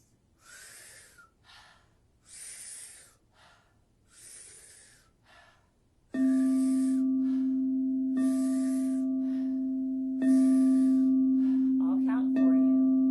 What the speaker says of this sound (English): We're going to be taking 40 to 50 powerful breaths.